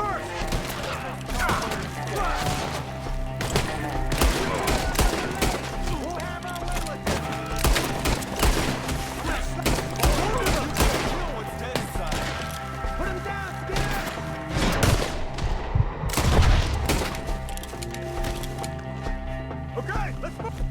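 A game shootout in Red Dead Redemption 2, with rapid cracking gunfire, thuds and impacts running steadily throughout, mixed with shouted voices and music in a busy, loud battle.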